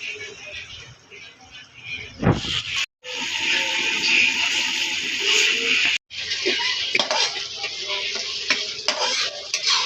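Mustard pabda fish spice paste with turmeric sizzling and frying in a pan, stirred with scraping utensil strokes; a loud, steady hiss close up, broken by two brief gaps.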